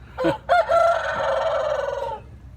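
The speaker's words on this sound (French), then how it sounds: "j'ai de la compagnie, comme vous l'entendez, cocorico en vietnamien." A rooster crows loudly and close by in a Vietnamese fishing village, a short rising call followed by one long sustained cock-a-doodle-doo that holds steady before fading out.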